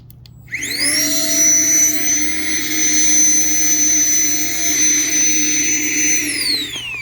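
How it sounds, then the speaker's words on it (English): A battery pump on a Klymit Static V insulated air mattress switches on abruptly and whirs steadily at high pitch while sucking air out to deflate it, loud and close, then winds down at the end. "double tap the button to deflate, and it'll suck all the air out, or most of it anyways"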